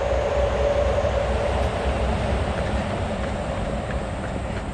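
A train roars past close by at a theme park in Beijing, China, a loud continuous rushing rumble with a faint squeal, gradually easing toward the end.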